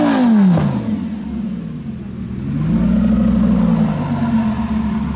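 A manual Lamborghini Gallardo with a proper exhaust revs loudly close by, one sharp roar that falls away, then a rising, throbbing engine note that holds as the car pulls past.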